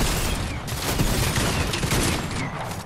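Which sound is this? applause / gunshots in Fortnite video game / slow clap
gunshots in Fortnite video game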